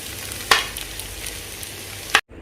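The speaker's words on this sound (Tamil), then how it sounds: "சேர்த்துட்டு நல்லா உடையாமல் கிண்டிக்கணும்" Chicken fried rice is stirred in a pan, with two sharp scraping strokes over a soft, steady frying hiss, then a sudden cut to silence.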